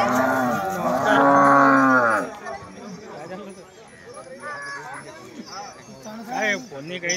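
Cattle at a large livestock show in Nadarpur, Kannad, low moos rising loudly in the first two seconds, then fainter bellows amid a busy crowd where people talk throughout.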